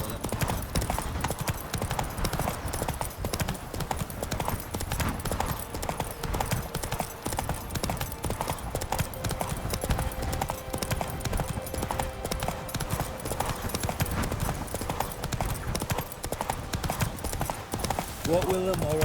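Geralt's horse Roach gallops in The Witcher 3: Wild Hunt, with rapid, steady hoofbeats clattering continuously over an ambient game soundscape, close and fairly prominent throughout.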